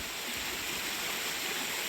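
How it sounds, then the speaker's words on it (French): A mountain stream flows beside a forest trail on the Appalachian Trail near Kingman in early morning, a steady close rushing of water with no voices. "Puis là, on longe un ruisseau pendant le premier mille de cette montée."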